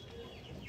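A small hen clucks briefly at close range, a single soft throaty cluck over faint background noise.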